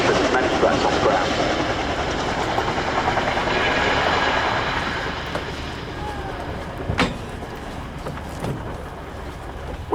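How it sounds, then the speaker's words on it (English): An RAF Chinook HC6 twin-rotor helicopter at the Royal International Air Tattoo flies away, its heavy rotor thrum and rumble slowly fading as a commentator speaks over it. "With the aircraft heading away, Cal will be climbing the aircraft up to ret"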